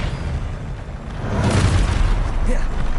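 A Confringo blasting spell in Hogwarts Legacy goes off with a rising, rumbling boom that swells midway and lingers as a noisy roar through the end.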